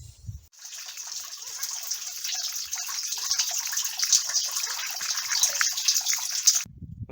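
Water pumped out of a bathhouse through a hose makes a steady, close hissing gush that runs evenly for about six seconds and then stops abruptly.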